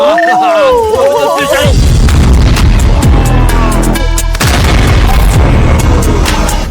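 Gunfire in a video game arrives as heavy, loud booming blasts that pulse over several seconds. A voice is briefly heard at the start before the barrage takes over.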